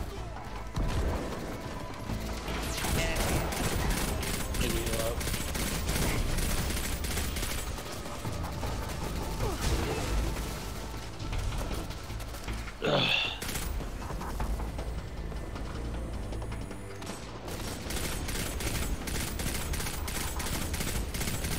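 Grenade launcher fire in Destiny amid continuous game combat, rapid mechanical shots and clanks layered over a dense, loud battle bed with occasional sharper bursts.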